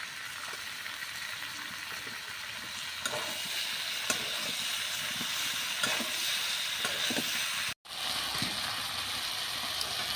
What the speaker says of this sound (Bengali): মাছ দিয়ে কষিয়ে তারপরে ঝোল দেবো।